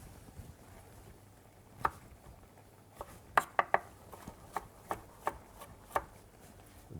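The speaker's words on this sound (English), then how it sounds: "In the meantime, we can cut the artichokes." A knife cutting artichokes on a board in an Italian cooking lesson, sounding as a series of sharp, separate chops with irregular gaps, close and alone against a quiet kitchen background.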